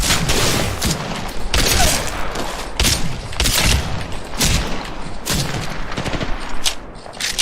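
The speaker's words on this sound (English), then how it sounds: "I'm getting shot at." Gunfire in the battle royale video game Apex Legends, loud repeated bursts of shots and sharp cracks in rapid clusters throughout, near and intense, without speech.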